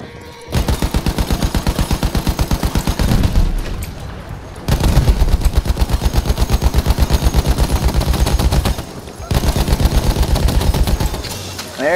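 Automatic weapon fire in Battlefield 1, long loud rapid bursts of shots close up, broken by short pauses between three sustained strings of fire.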